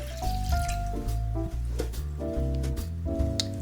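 Water is poured into a saucepan already holding wine and Calvados, a close gurgling stream with rising, changing pitch as the pan fills, with small drips and splashes.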